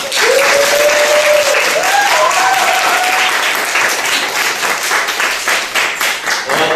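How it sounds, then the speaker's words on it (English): A lecture audience applauds to welcome a speaker to a human rights talk. The clapping is loud and dense from the first instant and stays sustained throughout, easing slightly toward the end, with a faint tonal hum running briefly underneath. "let's please welcome him with a big round of applause"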